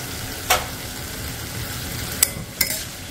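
Mixed vegetables with green chili stirred in a hot pan, a steady close sizzle and frying hiss broken by a few sharp clinks of the spoon against the pan.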